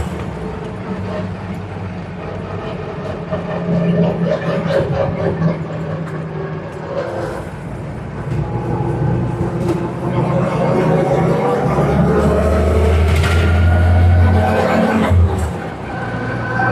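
An M38 military jeep, freshly fitted with a rebuilt transmission and transfer case, drives along with a steady engine drone and road rumble that swells as it pulls, while people talk over it throughout.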